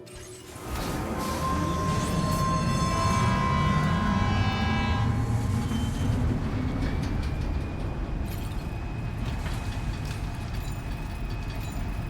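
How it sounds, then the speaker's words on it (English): Monorail ride in Death Stranding 2, a loud steady rumbling roll of the train with a whining tonal hum that fades after a few seconds, continuous and close, with no talking. "Get on monorail, and away we go."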